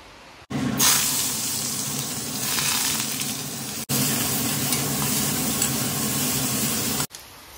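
Pumpkin-leaf wraps of fermented dry fish (Assamese shidol bora) frying in hot mustard oil give a loud, steady sizzle and crackle, with two brief breaks where the hiss drops out before resuming.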